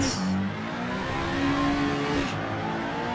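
A Bentley race car engine drones loud and steady in the racing video game Total Immersion Racing, with a brief shift in pitch partway through.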